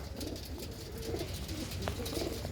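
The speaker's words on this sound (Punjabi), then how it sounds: "ਇਹ ਸਾਰੀਆਂ ਕਬੂਤਰੀਆਂ ਹੀ ਆਪਣੀਆਂ ਆ" Pet pigeons in a home loft coo in low, throaty rolls that repeat several times, close by and steady, with no speech.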